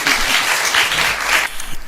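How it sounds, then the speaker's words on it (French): An audience applauds a mother invited to speak at an event for young Nigerien robotics ambassadors, a short burst of steady clapping that tails off as a voice begins. "On l'applaudit."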